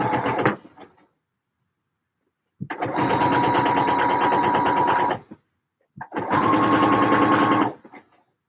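A sewing machine stitching fabric in two loud, steady bursts of about two seconds each, separated by silence, after a brief opening run; close and alone with no talk.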